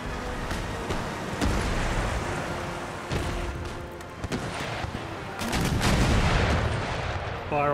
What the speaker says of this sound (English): Fire off a little broadside at close range.